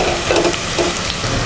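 Shallots, garlic, star anise, Sichuan pepper and bay leaf sizzle and spit in hot oil in a pan, a close, loud frying crackle with the scrape of stirring.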